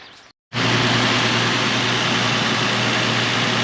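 A Nissan Xterra engine runs steadily after a coolant refill, a loud continuous idle drone with a low hum that begins abruptly after a brief silence and holds unchanged to the end.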